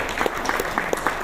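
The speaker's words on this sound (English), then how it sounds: "can we have a big round of applause to all the speakers of today" An audience at a sustainable energy forum claps for the speakers, a brief stretch of scattered, moderately loud handclaps with an uneven rhythm.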